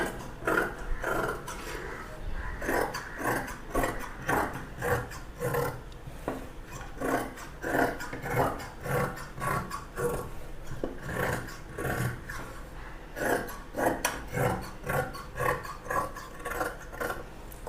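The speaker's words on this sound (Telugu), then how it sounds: "నెక్ తర్వాత కట్ చేస్తానండి. చూడండి కటింగ్ అయితే" Scissors cut through dress cloth on a tabletop in steady repeated rasping strokes, close and moderately loud, continuing rhythmically without talk.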